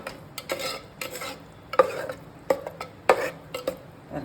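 Cooked rice being mixed with curd in a vessel for curd rice, a series of soft squelching stirs and intermittent spoon knocks against the bowl, close and fairly quiet.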